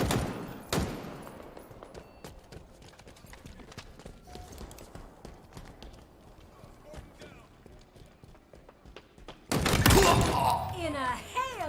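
Gunfire rings out in a shooting video game: sporadic sharp shots, then a loud, dense burst of rapid fire near the end.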